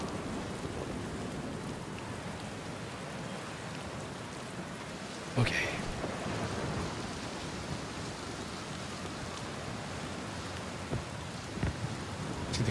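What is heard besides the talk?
storm with rain and thunder in video game Outer Wilds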